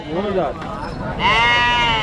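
Goats bleat at a busy livestock market in Karnataka, several long wavering calls close by, one at the start and a louder, sustained bleat in the second half, with crowd noise beneath.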